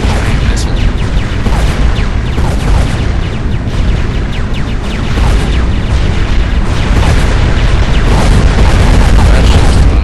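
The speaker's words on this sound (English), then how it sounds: "That one got hit by a giant missile." Loud, continuous rumbling booms from the space combat game Gratuitous Space Battles, as a giant missile explodes amid dense, overlapping blasts and crackling throughout.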